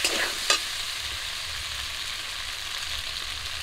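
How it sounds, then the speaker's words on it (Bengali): Elephant foot yam frying in cumin paste in a pan for a fish curry, a steady close sizzle with a couple of brief stirring clatters near the start. "জিরা বাটা দিয়ে কিছুক্ষণ ভেজে নেব"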